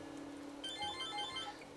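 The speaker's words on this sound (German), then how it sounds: "Das Telefon, he?" A telephone rings with a short electronic ringtone melody of repeated tones, fairly faint over a low steady hum, with no talking.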